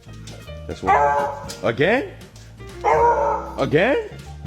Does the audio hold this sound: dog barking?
yes